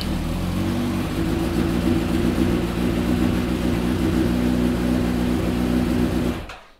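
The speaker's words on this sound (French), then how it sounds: "Et vous allez mettre en route votre moto" A motorcycle engine idles steadily after starting during a battery charging check, a constant low droning hum with even tone and loudness until it cuts off near the end, close by with no talk.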